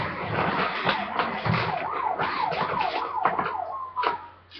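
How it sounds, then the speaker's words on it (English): An ambulance siren wails in the background, its rising and falling pitch sweeping steadily over several cycles beneath game sounds and occasional thumps. "And an ambulance in the background."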